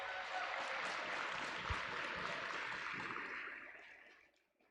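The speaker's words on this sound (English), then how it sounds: "Give yourselves a round of applause." Audience applause at the FIRST Tech Challenge Pennsylvania championship, a broad steady wash of clapping from a large crowd that holds for about four seconds and then fades away.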